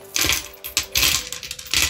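Coins poured out of an emptied wallet clatter and jingle in several close, loud bursts, a dense metallic rattle spilling onto a surface with short pauses between pours.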